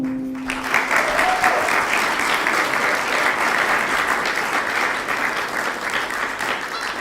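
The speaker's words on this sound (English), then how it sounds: "please put your hands together for Karen O'Donnell." An audience applauds a speaker being welcomed at an employee engagement talk, dense continuous clapping that starts abruptly, stays loud and even, then eases slightly near the end.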